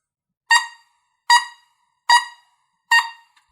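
An oboe sounds four very short tongued notes, evenly spaced about a second apart, each a crisp reedy pop that drops off quickly into silence.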